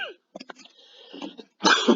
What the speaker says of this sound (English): this cough is really getting to me now